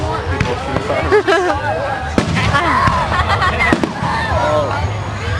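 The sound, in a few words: fireworks being shot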